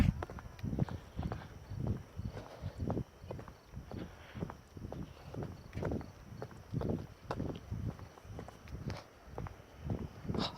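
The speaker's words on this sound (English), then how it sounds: "I'm just walking and you can maybe hear my footsteps" Steady footsteps on a hard city surface while walking, a regular rhythm of close, crisp steps running throughout with no talking.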